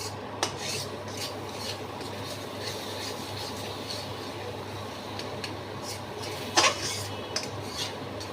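Spoon stirring a thick condensed-milk mango dessert in a wok over raised heat: steady close scraping and rubbing against the metal pan, with a single sharper clank near the end.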